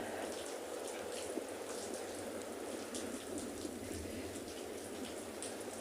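Steady rain falls on a penguin beach, a faint, even hiss of drops on the ground that continues without a break.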